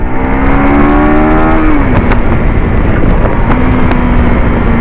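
A 2025 KTM Adventure 390 motorcycle accelerates hard in third gear. The engine is loud and close, and its droning whine climbs steadily, dips briefly partway through, then holds strong under wind noise.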